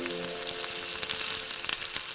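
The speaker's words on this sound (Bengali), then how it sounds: "ওই তেলটাতে একটু তেল দিয়ে আলুগুলোকে ভালো করে ভেজে নেবে।" Potatoes frying in oil in a pan over a clay wood-fired stove, a steady close sizzle with small crackles and pops throughout, no talking.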